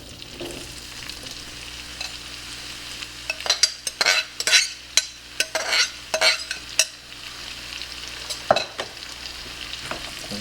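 Apples sizzling in melted butter in a pan for puff pastry apple strudel, a steady frying hiss with a burst of clattering stirs in the middle, close and clear with no talking.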